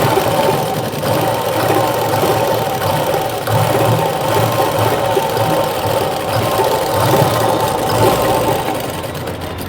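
A sewing machine stitching a blouse runs steadily, its loud, continuous mechanical whirr and rapid needle clatter sounding close up without pause, with no voices.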